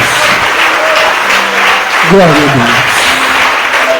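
A church congregation claps loudly and continuously as a preacher speaks over the applause.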